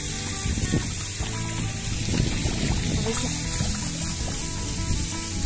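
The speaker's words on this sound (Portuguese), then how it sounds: "com direito até uma bica para tomar uma aguinha gostosinha" Cold water running from a spout beside a trail near a waterfall in Urupema, Santa Catarina, a continuous close splashing rush with a steady even level throughout.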